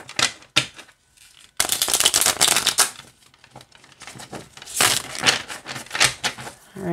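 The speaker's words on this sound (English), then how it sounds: "I'm gonna shuffle all of them together" A mini card deck being shuffled in bursts, crisp riffling flutters of small cards separated by short pauses, close and fairly loud, with no talking.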